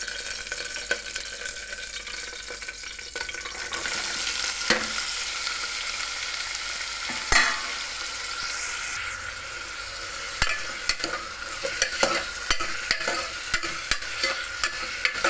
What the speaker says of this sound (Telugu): నూనె వేడెక్కింది ఇప్పుడు ఈ కూర ముక్కలన్నీ అందులో వేసేసుకుని వేయించుకుందాం